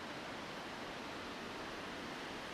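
Steady broadband rush of the waterfall at Hooker Falls in DuPont State Forest, a constant even roar of falling water heard from nearby with no voices.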